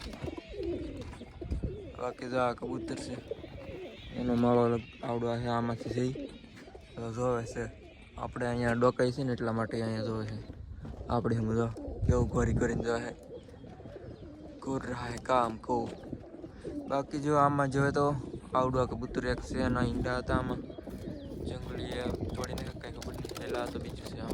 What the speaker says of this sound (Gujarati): કબૂતર આવી ગયા છે